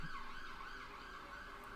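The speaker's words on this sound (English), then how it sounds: "it sounds like an ambulance is outside somewhere" An ambulance siren wails outside, its rising and falling tone steady and muffled by walls, heard at a distance without talk.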